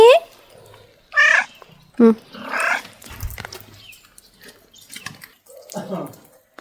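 A cat meows several times close by, with short calls spaced apart, amid running water and household noise.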